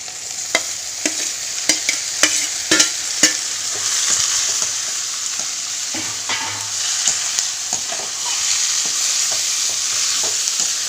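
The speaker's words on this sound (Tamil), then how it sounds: "தக்காளி நல்லா வதங்கி வரணும்." Tomatoes and onions sautéing with curry leaves in a pan for a Tamil prawn gravy: a steady close sizzle broken by scraping stirs, frequent at first and then sparser, with no talk.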